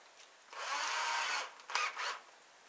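A power drill drives a screw into ficus wood in two bursts: a steady whirring run of about a second, a short pause, then a brief final spin, close and fairly loud, with no talking.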